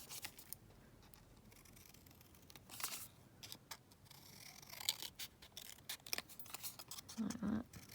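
Scissors snip through fabric being trimmed for a junk journal topper, a series of crisp, close cutting clicks spread irregularly across the clip over quiet room tone.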